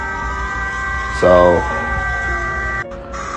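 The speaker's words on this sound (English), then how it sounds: "these are sirens going off while China's mobilizing their military for war with Taiwan." Sirens sound across China during a military mobilization, steady sustained wailing tones running through the whole stretch, with a brief burst of someone talking over them partway through.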